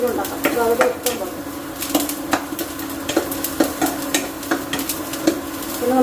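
Onions frying in ghee in a pan give a close, steady sizzle broken by frequent clacks and scrapes of stirring, with no talk over it.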